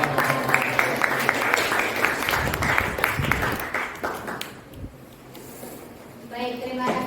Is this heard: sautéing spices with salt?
no